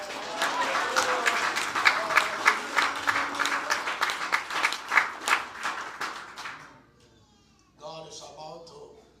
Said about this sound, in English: Come on, give a clap.